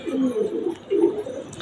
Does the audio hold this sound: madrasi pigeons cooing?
yes